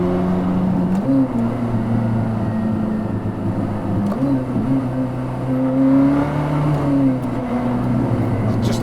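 Koenigsegg CC850 engine heard from inside the car on a smooth Swedish road, a steady low drone with pitch rises and dips as revs climb and drop during gear changes, constant and fairly loud.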